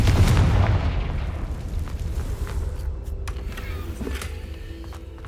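Confringo blasting spell from Hogwarts Legacy, a heavy booming explosion up front that rumbles and decays over several seconds, with faint rattling debris afterward.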